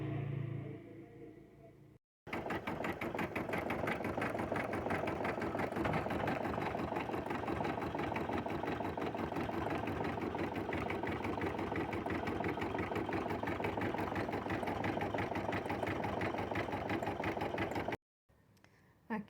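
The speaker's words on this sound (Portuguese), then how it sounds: "Eu vou voltar para a máquina e agora ela vai finalizar fazendo ponto cheio em volta" A machine embroidery sewing machine runs a dense satin-stitch border around an appliqué piece, a steady, rapid, close mechanical hum and rattle for about fifteen seconds between brief pauses.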